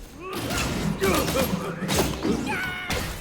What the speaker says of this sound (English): the satisfying thud of your cudgels smashing into enemies